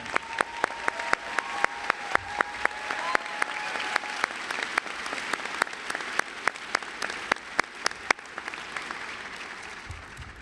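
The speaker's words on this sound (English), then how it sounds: "please join me in applauding them all" Audience applause honoring faculty members at the 2019 McGeorge law school commencement, a steady wash of clapping with sharp individual claps punctuating it throughout, moderately loud and alone without speech.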